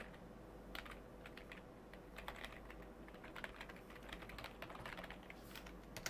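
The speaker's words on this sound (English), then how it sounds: "let me just type it again" Quiet, rapid keystrokes on a computer keyboard tap out an email address in uneven clusters of soft clicks against steady background hum.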